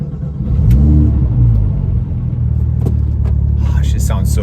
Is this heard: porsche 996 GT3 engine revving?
yes